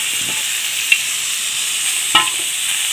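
Spices and fenugreek leaves stirred in an oily pan over a steady, bright sizzle, with a couple of brief spoon scrapes against the pan.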